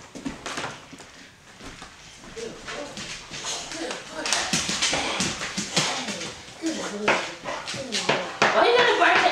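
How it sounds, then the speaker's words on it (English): A dog barks and whimpers repeatedly at close range, mixed with taps and movement while a person talks over it. "Why you gotta bark at everybody?"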